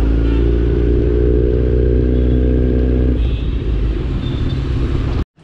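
A Kawasaki Z900 motorcycle engine runs loud and close with a steady, throaty rumble, then shifts to a rougher, clattering tone before cutting off abruptly near the end.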